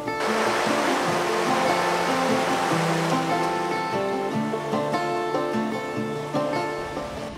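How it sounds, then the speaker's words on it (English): Continuous wash of Lake Ontario water lapping and splashing against rocks at Port Credit, Mississauga, steady and fairly loud with no voices. "listening to the gentle sound of the waves hitting the rocks."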